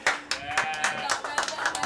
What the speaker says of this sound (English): you can hear the applause from the Spartans team